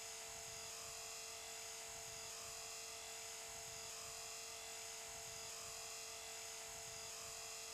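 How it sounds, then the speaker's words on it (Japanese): A small radio-controlled helicopter's rotor buzzes in a steady, continuous drone, holding an even pitch as it hovers nearby. "動画のラジコンヘリコプターは、ホバリングしながらも、前後左右に揺れています。"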